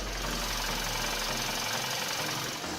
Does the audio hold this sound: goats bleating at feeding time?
no